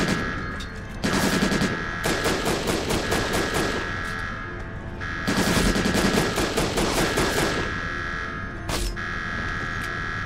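Gunfire in Syphon Filter: Logan's Shadow comes as two long, loud, rapid automatic bursts of dense cracking shots. A steady game tone sits underneath, and a single sharp shot lands near the end.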